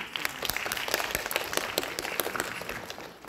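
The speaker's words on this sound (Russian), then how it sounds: "аплодисменты всем, кто сейчас был на сцене и еще выйдет" Festival audience applauding performers on an outdoor summer stage, a steady dense patter of many hands clapping throughout, moderately loud with no voices.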